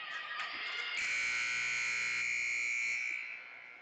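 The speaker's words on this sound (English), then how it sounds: "10 seconds before the buzzer rings, I'm not going to let that sneak up on me this time" A loud electronic buzzer sounds during a high school volleyball match in a gym, one sustained harsh tone of about two seconds that swells in and then cuts off, alone with no talk.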